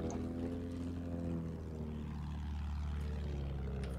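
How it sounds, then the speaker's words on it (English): Attack plane in the video game Battlefield 1 flying overhead, a steady propeller-engine drone holding at a constant loud level for the whole stretch, with no talk. "There's an attack plane up."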